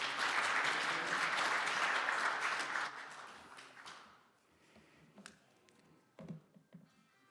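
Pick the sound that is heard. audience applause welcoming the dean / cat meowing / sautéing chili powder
audience applause welcoming the dean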